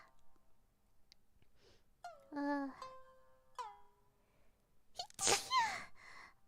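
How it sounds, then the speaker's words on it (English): Quiet room with a few soft vocal sounds and a sharp, close sneeze bursting out near the end, followed by a brief exhale. "Sneeze coming on."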